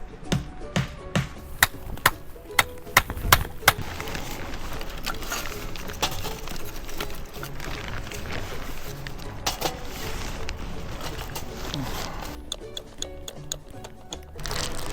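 A hammer strikes firewood at a rainy campsite in a seaside pine forest, giving sharp, irregular knocks that come in quick clusters over a steady background hiss of rain.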